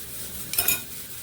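Brief clink and scrape of a spoon mixing garlic powder, black pepper, ginger, turmeric and salt in a dish, two quick metallic taps midway through an otherwise quiet moment.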